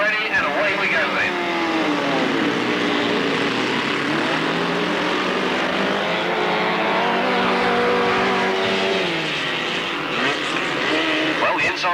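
Grand Prix midget race cars at Alwalton pulling away at the start, a loud droning engine roar rising and shifting in pitch over about twelve seconds, with commentary running over it.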